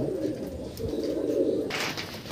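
Pigeons coo steadily in a breeding section of a loft, a close, continuous low warbling from several birds with a brief brighter rustle near the end.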